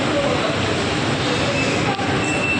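A four-car monorail train rolls in at Putrajaya, Malaysia, with a steady, dense rushing rumble and a faint high whine, loud and close throughout.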